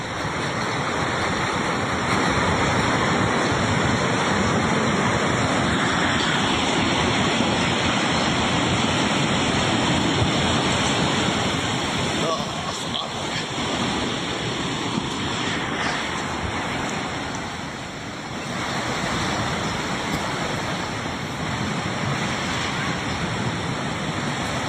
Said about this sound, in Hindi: इसकी रफ्तार देखिए, ये सिर्फ पानी नहीं है, मलबा वाला पानी है।